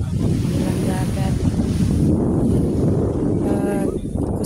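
Ocean surf at Dahican beach, Davao Oriental, roars continuously, buffeted by heavy wind noise on the microphone, with faint voices briefly surfacing under the rush.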